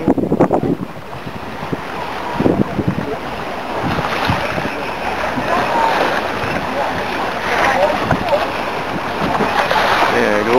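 An inflatable motorboat travels on open water, with wind buffeting the microphone and waves splashing over a continuous engine drone, while people talk intermittently.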